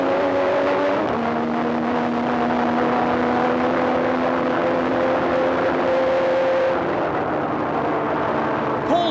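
Onboard a Formula 1 car lapping the Paul Ricard circuit, a loud engine drone holds a steady pitch with a brief gear change near the start, then eases off near the end.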